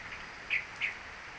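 A small bird gives two short, bright chirps about a third of a second apart, fairly faint over a quiet indoor background during a power outage with rain outside.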